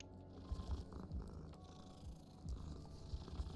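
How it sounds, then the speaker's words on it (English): A cat purrs in a horse-riding video game, a low, rhythmic rumbling pulse repeating steadily and close, with faint background music underneath. "See, I like the cat. All you get is purring."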